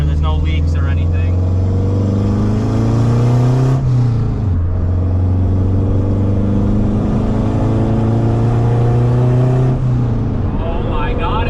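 A turbocharged K24 engine in a Honda Civic EM2 revs loudly and close by, its tone rising and holding, then dropping and climbing again before easing off, with no talk over it.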